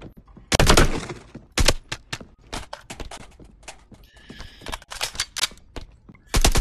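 Rapid gunfire in a VR close-quarters shooting game, a string of sharp, loud shots in uneven bursts with brief gaps and some faint background clatter, no talk.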